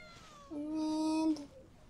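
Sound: cats meowing in Genshin Impact video game

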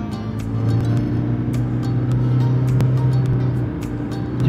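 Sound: Toyota Prius driving on a test drive

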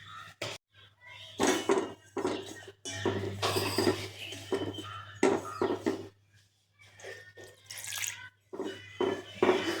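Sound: water poured and mixed into cauliflower spice mix

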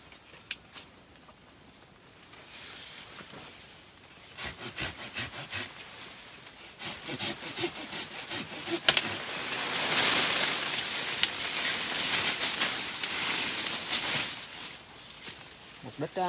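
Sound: hand saw cutting avocado tree branches

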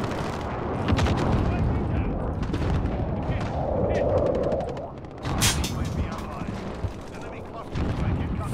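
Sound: precision airstrike gunfire and explosions in a video game

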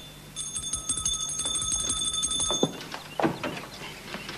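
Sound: hand bell ringing

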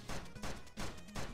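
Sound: gunfire recoil in video game Jump Gunners

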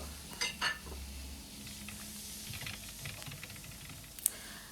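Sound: tomatoes sautéing in a pan for fish curry

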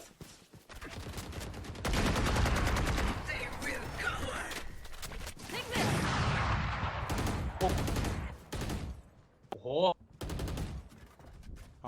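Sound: gunfire in a shooter video game

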